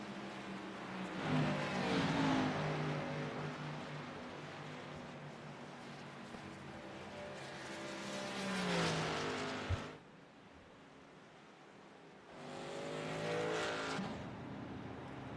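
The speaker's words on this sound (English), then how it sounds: "Sage Greco rolling off of pit road." Race cars lap Talladega in a racing video game, engines swelling and fading in long passes with a sharp rev drop and a short quiet gap before another car roars through.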